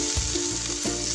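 Okra sizzling in leftover hot oil in a pan, a continuous bright crackling hiss with faint stirring clinks, close and loud.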